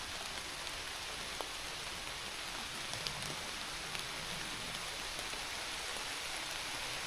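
Rain in the woods, a faint, even hiss of drops falling on leaves and ground, with scattered sharper drip ticks, distant and soft with no voices.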